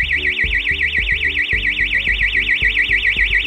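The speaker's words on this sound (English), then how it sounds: "And here's what an external Klaxon sounds like." An external Klaxon fuel theft alarm blares nonstop, a loud rapidly warbling siren tone over a thumping repetitive pulse beneath, close-up and without any voices.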